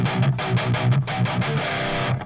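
Thick distorted electric guitar through an Orange Rockerverb amp sim in Amp Hub, with a Fortin 66 boost into the matched cab, playing fast chugging riffs with repeated pulses, loud, close and unbroken.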